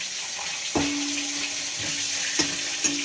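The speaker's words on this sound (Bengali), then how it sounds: "আগে মাছের মাথাটা ভেজে নিই" A fish head fries in a pan with a steady, fairly loud sizzling hiss, broken by a few sharp clinks of a utensil against the pan near the middle and end.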